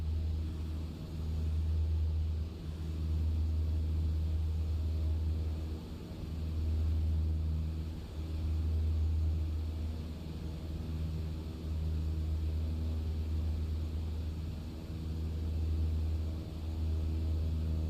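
A propeller aircraft on a Shetland Islands mail run drones steadily in flight, with a deep, constant engine rumble that swells and eases in slow cycles from inside the cabin.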